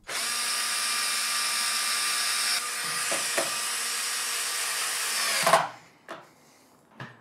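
A power drill drives screws into the corner of a workbench built from a Simpson Simply Build It kit, a long steady whine running about five seconds before cutting off, followed by a couple of short knocks.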